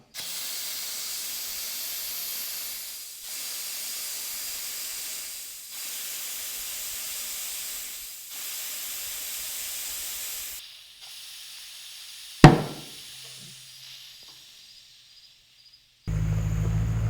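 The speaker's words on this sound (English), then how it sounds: "we can grab the air over here and start airing it up" Compressed air hisses steadily into a 37-inch off-road tire on a 17-inch wheel, in several long bursts with short pauses between, followed by a sharp bang and a quieter tail.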